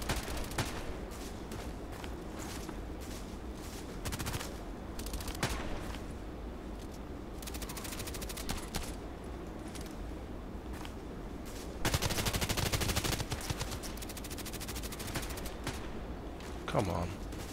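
Gunfire in the shooter game Contract Wars: bursts of rapid shots recur through the stretch, with heavier sustained volleys near the end, over constant game background and a speaking voice.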